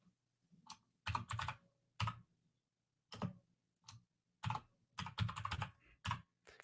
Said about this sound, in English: Stupid freaking keyboard.